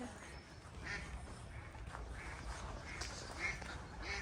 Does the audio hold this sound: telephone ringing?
no